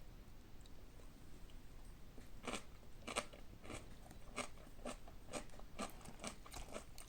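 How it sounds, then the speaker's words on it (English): Homemade fermented kimchi bitten and chewed up close, a quiet run of sharp wet crunches arriving in irregular bursts, more frequent toward the end. "I'm going to take one little taste"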